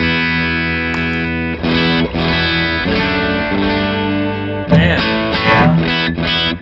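Electric guitar strummed in sustained chords through an LSL effects pedal toggled on and off, the tone shifting between cleaner ringing and a thicker, distorted, modulated wash, with a few sharp clicks and accented restrikes along the way.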